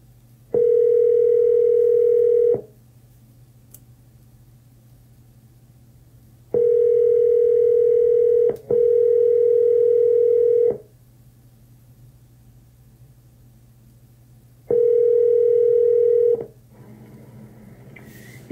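Telephone line tone on a call to a seller, sounding in four long steady beeps separated by silent gaps over a low constant hum, clear and loud with no talking.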